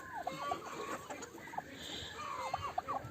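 Chickens cluck in short repeated bursts during a rooster and turkey fight in a ring, fairly close, over faint background noise.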